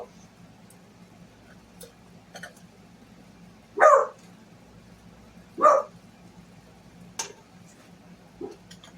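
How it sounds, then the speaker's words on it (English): A dog barks twice, a few seconds apart, over quiet background with faint ticking and a couple of softer yips. "Sometimes she likes to bark at the cats too."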